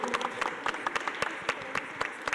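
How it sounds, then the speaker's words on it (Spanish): Audience applause at a public panel on sexual diversity in Mexico City, a dense steady patter of many hands clapping with sharper individual claps standing out, moderately loud and free of speech. "Yo quiero que les demos un fuerte aplauso a Temístocles Villanueva Ramos, diputado en"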